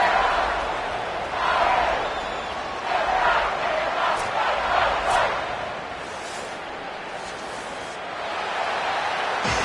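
A large home crowd roars and cheers as the Wolverines' kickoff unit lines up for a football kickoff, a broad swelling stadium noise rising and falling with scattered shouts and a commentator talking over it.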